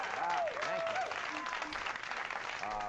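Live studio audience of The Chris Gethard Show applauding and cheering at the start of the show, a dense, continuous wash of clapping with voices calling out through it.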